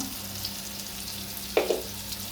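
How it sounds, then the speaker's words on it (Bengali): Large prawns frying with onion and a little salt in a pan, a close continuous sizzle with a couple of sharper crackles of stirring near the end, no voices. "বড় চিংড়িগুলো ভেজে নিচ্ছি, সাথে পেঁয়াজ দিয়ে দিচ্ছি"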